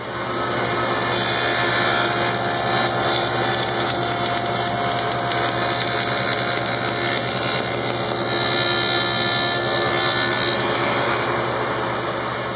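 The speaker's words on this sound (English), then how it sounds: "So what I do is I use my dado blade" A dado blade cuts wood with a loud, steady, continuous whirring roar and a broad saw hiss that holds for the whole stretch, with no talk.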